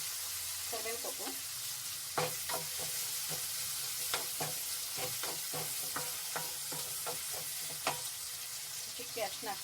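Curry leaves and tomato sizzle in a hot pan with a constant hiss of frying, while a utensil stirs and scrapes against the pan in a steady series of close taps.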